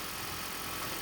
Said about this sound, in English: Now let's start the engine and let it run.